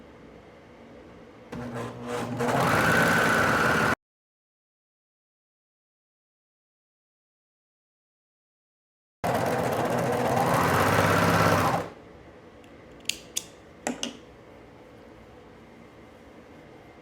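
A sewing machine stitches the side seams of a blouse in two loud, steady bursts of rapid mechanical whirring separated by silence, followed by a few faint clicks.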